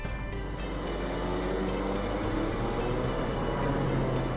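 A Piper M600 single-engine turboprop airplane climbs out, heard as a steady, dense engine drone with a constant low rumble and no break or change in level throughout.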